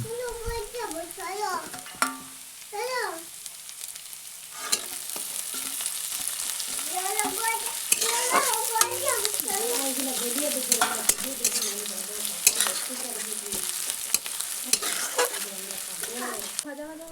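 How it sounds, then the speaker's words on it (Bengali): Chopped onion, ginger and garlic sizzle and fry steadily in a pan, with occasional scraping stirs and clinks over the constant hiss. "পেঁয়াজ আর আদা রসুন ভাজা হয়ে গেছে"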